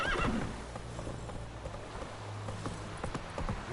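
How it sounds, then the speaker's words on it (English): A horse in The Witcher 3 video game whinnies loudly, then its hooves clip-clop steadily beneath a low rumbling game soundtrack. "Whoa there, Roach."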